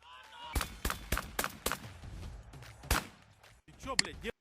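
A handgun fires accidentally during a firearm safety demonstration, a single sharp report near the end following a series of loud percussive bangs, with voices talking in the background.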